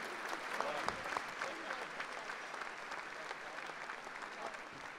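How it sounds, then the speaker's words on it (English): A dinner crowd at the Naismith Memorial Basketball Hall of Fame reunion gives a round of applause for honorees, a steady, moderately distant wash of clapping with faint voices beneath. "big round of applause for Mannie Jackson, Dwayne Wade, Nancy Lieberman, and Bob Hurley"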